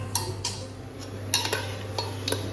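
Pork going into a dry pan with no oil and being stirred: scattered scraping and metallic clinks over a steady low hum, quiet and close.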